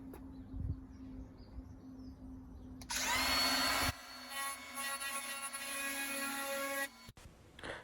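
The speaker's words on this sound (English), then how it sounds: "Just going to use the palm router just to go and soften the edges with a slight little round over." Close, high-pitched whine of a palm router cutting a slight round-over on the edge of a chipboard board, a short burst followed by a longer steady run that ends abruptly, over a quiet background hum.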